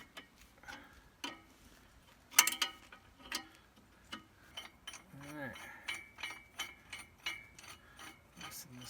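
A tensioner being tightened on McLaren over-the-tire tracks, a series of faint close ratcheting clicks and metallic ticks in irregular bursts, quiet overall.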